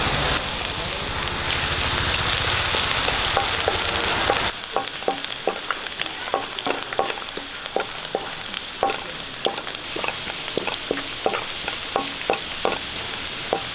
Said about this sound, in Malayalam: നമുക്ക് കുറച്ച് വെളിച്ചെണ്ണ ഒഴിച്ചു കൊടുക്കാം ഒരു കഷ്ണം ഇഞ്ചി ഇട്ട് കൊടുക്കാം ഒരു അഞ്ചെട്ട് അരി വെളുത്തുള്ളി